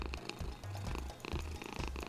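A cat purrs in the video game What's Under Your Blanket 2, a close, steady rumbling purr in rhythmic pulses over a busy game soundtrack.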